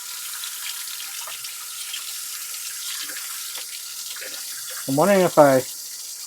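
Water flows from a tap in a steady, moderate stream, with brief speech before a louder voice cuts in toward the end.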